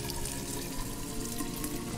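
Water running from a tap into a pot in the video game Fran Bow, a steady close splashing and gurgling stream that continues evenly throughout.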